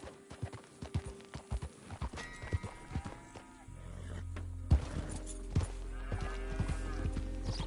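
Rhythmic clip-clop of horse hooves in Red Dead Redemption 2, with scattered farm animal sounds, joined partway by a low steady rumble; no talking.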